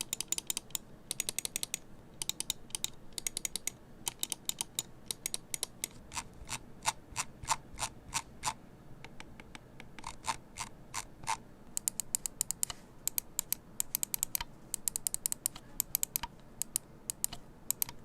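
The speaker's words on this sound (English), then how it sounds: "I've got some click samples here as well, which I'll play." Crisp, close clicking from a Logitech G Pro X Superlight gaming mouse, sharp individual clicks in uneven bursts and steady runs, some rapid and some spaced, with no voices.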